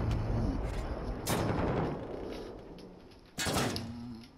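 In the video game Call of Duty: Modern Warfare, two loud, sharp gunfire blasts ring out a couple of seconds apart, each followed by a decaying rumble over steady background game noise.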